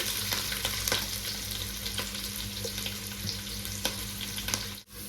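Thin boiled rice frying in ghee in a pot makes a steady, close hiss and crackle broken by light stirring scrapes, then a brief dip near the end.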